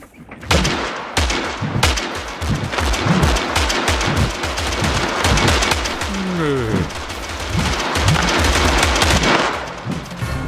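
Gatling guns firing in the battle game TABS, a dense, loud, continuous rattle of rapid fire with heavy overlapping bursts and no talk.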